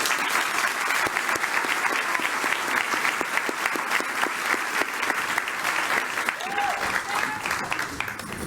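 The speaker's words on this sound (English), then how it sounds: "Please join me as we give her a round of applause." A crowd at the Urban Alliance DC public speaking challenge gives sustained applause for the 2019 Mentor of the Year award honoree, steady and dense clapping throughout with a faint voice near the end.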